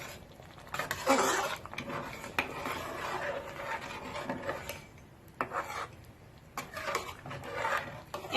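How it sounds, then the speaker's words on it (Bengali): Mutton haleem in a pot gets fried spices stirred through it, a steady scraping and rubbing of a spoon against the pot wall with short clinks, continuing close by without talk. "এবার আমি এটাকে খুব ভালো করে মিশিয়ে দিচ্ছি।"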